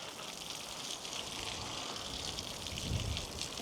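Water sprays steadily onto winter vegetable plants in a home garden, a continuous close hiss and patter without pauses.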